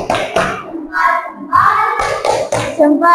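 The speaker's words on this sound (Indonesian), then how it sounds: "Tepuk salut." A group of children claps out a patterned classroom cheer, sharp bursts of hand claps mixed with shouted chant-like voices, loud and close in quick rhythmic groupings.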